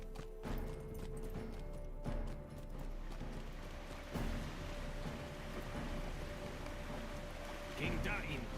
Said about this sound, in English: It's raining a little bit stormy sounding outside.